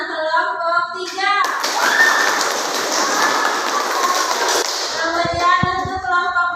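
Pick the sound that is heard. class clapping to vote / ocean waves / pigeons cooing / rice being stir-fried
class clapping to vote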